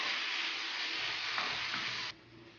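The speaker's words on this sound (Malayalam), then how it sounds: "ഒന്ന് ഇളക്കി കൊടുക്കാം" Canned tuna masala stirred in a hot pan gives a steady, close sizzle with soft scraping throughout, then drops sharply quieter near the end, with no talking.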